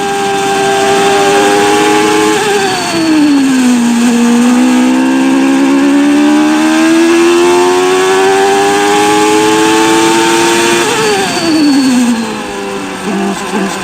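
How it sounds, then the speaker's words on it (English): A 1994 Formula 1 car with gearbox trouble at the Spanish Grand Prix in Barcelona runs at a loud, sustained engine whine. The pitch rises and falls smoothly with no gear-change breaks, and no voices are heard. "This sounds like one of the Variomatic gearboxes that Patrick Head worked on."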